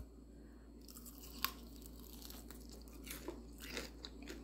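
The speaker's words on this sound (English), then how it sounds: "Nice and crunchy. Let me try this piece." A close, crisp crunch of a bite into a crispy fried hot honey chicken wing, followed by a few softer crackling chews over a low steady hum.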